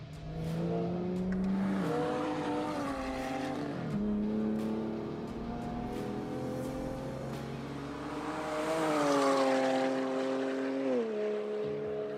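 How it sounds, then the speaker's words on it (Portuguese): A BMW 135 six-cylinder engine revs hard on a race track, its pitch climbing through the gears with clear drops at each upshift, loud and continuous with a final lift-off at the end. "Esses 6 cilindros parecem um diabinho na sua orelha."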